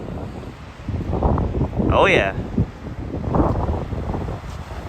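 Gusty wind buffets the microphone on Penzance seafront promenade on a stormy day, low rumbling surges rising and falling, with a short spoken exclamation in between.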